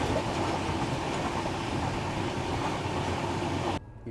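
Kolkata–Sairang Express train rolling along its rails, a steady dense rumble with rhythmic wheel clatter heard from on board, loud and continuous before dropping away abruptly near the end.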